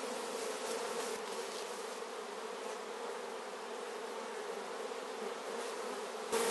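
Honeybees shaken out of a small nucleus hive box fill the air with a dense, continuous buzzing swarm drone, steady and close, with no talking.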